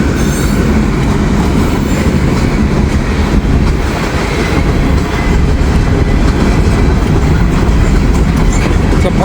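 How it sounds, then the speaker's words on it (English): A heavy freight train rolls past close by, a loud continuous rumble of wagons with rhythmic wheel clatter and faint squeals, no voices. "This is a big train here."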